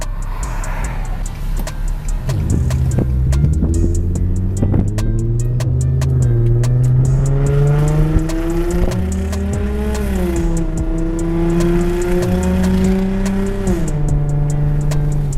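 An Infiniti G35 engine, just back on the road after a fuel pump replacement, revs steadily under throttle with a rising, continuous drone that climbs, dips briefly and climbs again, loud and close, with faint ticking over it.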